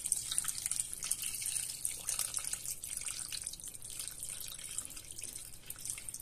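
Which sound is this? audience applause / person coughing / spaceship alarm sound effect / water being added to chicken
water being added to chicken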